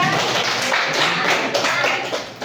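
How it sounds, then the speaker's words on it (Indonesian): A classroom group of students claps together on request, a dense burst of many hands that carries on steadily for a couple of seconds before tapering off. "Oke, tepuk tangan semuanya."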